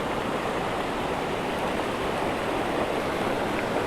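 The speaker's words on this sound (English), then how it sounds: "Water's just flowing like crazy" Fast-flowing water rushes steadily through a small, deep pool in a flooded creek, a loud, continuous broadband wash with no pauses and no voices.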